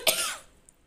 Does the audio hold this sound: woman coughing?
yes